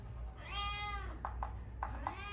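A kitten gives one drawn-out meow, then several short, quick mews. The sound is faint and close, in a quiet indoor room with a low hum.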